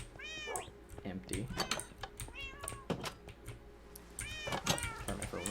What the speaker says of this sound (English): Here are the cats.